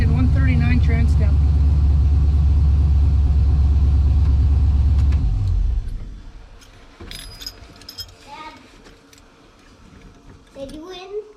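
A twin-turbo 5.3 V8 in a Ford Ranger rumbles loud and close, a deep steady idle for about five seconds before cutting off, leaving quieter clinks, ticks and a voice speaking.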